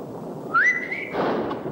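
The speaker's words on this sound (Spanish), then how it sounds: "Déjate de silbiditos." A single short whistle rises and holds, then breaks off into a gust of breathy noise.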